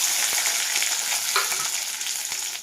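Chopped vegetables fry in hot oil in a wok with five-spice seeds and bay leaf, giving a loud, steady, close sizzle with a few faint clicks and stirring scrapes throughout.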